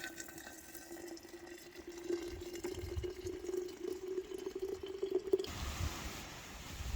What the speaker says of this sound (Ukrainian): Заливаємо вишні кип'ятком. Просто лємо воду із чайника.